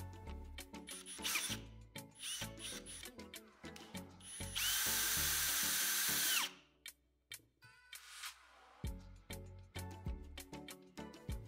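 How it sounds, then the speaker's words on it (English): A power drill whines steadily for about two seconds, boring a small hole in a wooden earring, loud and close, amid scattered tapping and handling clicks. "Then drill a small hole on one end of the earring for the earring hooks."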